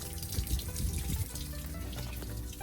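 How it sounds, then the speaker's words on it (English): Water runs steadily from an outdoor faucet onto the ground beside an RV whose tanks have just been filled, a continuous, moderately loud hiss and splash. "Okay guys, so we've got water running down onto the ground right now."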